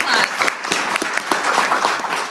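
Audience applause at a public school event honouring a dance squad, a crowd clapping with distinct sharp claps over a continuous patter, fairly close and lively.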